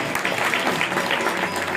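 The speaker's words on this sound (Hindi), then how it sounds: "इनके लिए ताली की सेवा कीजिए।" An audience at a devotional bhajan gathering breaks into steady, dense applause, loud and close throughout the short stretch with no pause.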